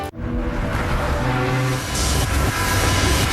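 A CSX freight train rumbles past loud and near, a continuous heavy roar of wheels and rail noise with rising metallic hiss.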